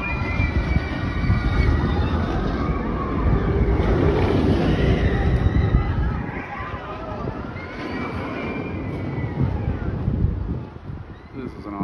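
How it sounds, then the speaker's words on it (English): On the Cannibal roller coaster at Lagoon theme park, a loud, constant roar of wind and rumble rises and falls through the ride, with voices faint beneath it. "This is an awesome ride. This is one of the better coasters I've been on."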